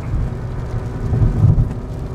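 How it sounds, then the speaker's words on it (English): Heavy rain pounds on a Mazda RX-8 during a road trip toward Texas, a steady dense wash with low rumbling from inside the car, no talking. "but it is raining like a son of a gun"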